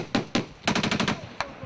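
Gunfire in an Afghanistan firefight: a couple of sharp shots, then a rapid burst of about six rounds and one more shot, loud and fairly close against open outdoor air.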